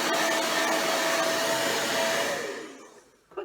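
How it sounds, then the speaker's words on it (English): A hair dryer blows steadily with a broad, loud whoosh and a thin whine, then winds down and cuts off near the end. "with the hairdryer"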